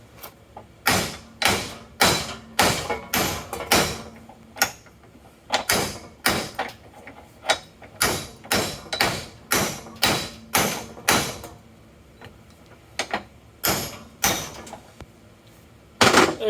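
A cut-around weld piece on a drive shaft being knocked off: a long series of sharp metallic hammer blows in uneven bursts, close and loud, with short pauses between groups.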